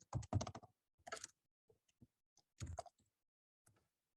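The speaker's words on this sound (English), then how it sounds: "Type the address in here." A computer keyboard is typed on in a few quick bursts of close, crisp key clicks separated by short pauses, quiet overall and without speech.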